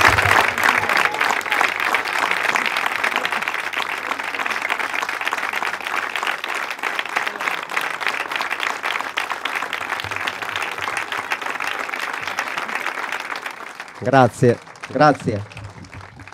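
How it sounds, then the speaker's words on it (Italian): A large crowd at a Fano running event applauds loudly and steadily in tribute to a remembered friend, sustained clapping that fills the space before someone briefly speaks at the end. "Facciamo un bel applauso,"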